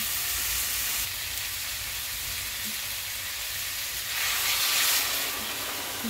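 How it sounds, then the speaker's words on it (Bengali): Hot water goes onto spices frying in a pan, and a continuous sizzle swells into a brighter, louder burst of hissing steam for a moment before settling back to a steady fry. "মশলাটা ভালো করে ভাজা হয়ে গেছে। এবার আমি একটু গরম জল দিয়ে দিচ্ছি।"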